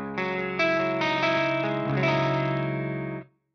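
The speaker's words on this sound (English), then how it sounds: "The clean channel's really sick because it's really clean." An electric guitar plays through the clean channel of a Carvin V3 amp. A few strummed chords ring out in close succession, sustain, then stop cleanly.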